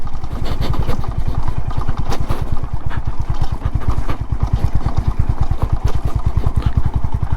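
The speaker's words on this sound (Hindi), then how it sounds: "सामने वो एक बाइक वाले भाई जा रहे हैं स्प्लेंडर में" A motorcycle rides over a rough road in Dalma Wildlife Sanctuary. Its engine thumps in a loud, close, fast and even pulse throughout.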